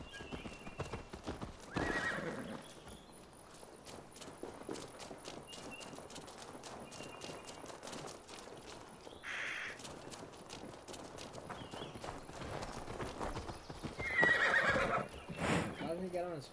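A horse in Assassin's Creed Valhalla on PS5 whinnies and its hooves clip-clop steadily, with several louder whinnies over a continuous walking rhythm while people talk.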